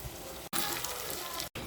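Mutton being slowly fried (kosha) in a pan on the stove, giving a steady, close crackling sizzle that runs almost continuously, broken by two very brief silent gaps.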